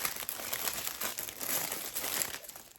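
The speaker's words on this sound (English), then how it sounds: "Sorry, they're crinkly bags too. They're plastic and they sort of stick to themselves." Crinkly plastic bags that cling to themselves are rustled and crumpled close up, giving a soft, continuous crackle with small bursts of louder crinkling.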